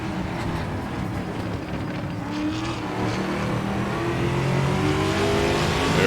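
In a racing video game, a VRC TA2 race car launches and accelerates hard, its loud engine note climbing steadily in pitch over several seconds with continuous revving and no talking.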